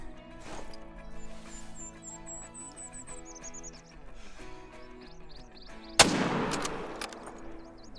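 A single loud rifle shot cracks out at a buck in the hunting game Call of the Wild, a sharp broadband blast midway through, set against layered game ambience with bird chirps and tonal background sounds.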